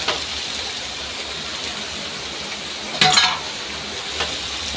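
A fish head sizzles in hot oil in a pan, a steady close frying hiss with a louder sputtering burst around the middle and a smaller crackle near the end.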